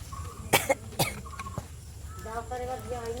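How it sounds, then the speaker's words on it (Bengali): Two sharp coughs close together, then another after a short pause, with faint speech and a tonal hum in the background. "কাশি হচ্ছে শুধু কাশি হচ্ছে"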